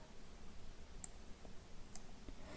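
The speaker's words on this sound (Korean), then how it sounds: "배경화면 더블 클릭 2급-6을 불러오고요" A computer mouse gives two faint, sharp clicks about a second apart over a quiet background hiss.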